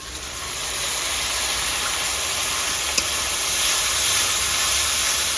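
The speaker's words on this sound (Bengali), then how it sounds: "এবার দিয়ে দেবো আদা রসুনের পেস্ট।" Ginger garlic paste sizzling in hot oil with fried onions, a loud continuous broad hiss that swells in over the first second and holds steady, with one faint click midway and no voices.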